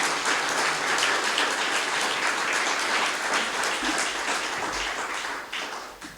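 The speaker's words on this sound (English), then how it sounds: "applause for the committee," Audience applause for an event committee at an evening lecture hall talk, a dense, steady wash of many hands clapping at full strength that fades near the end.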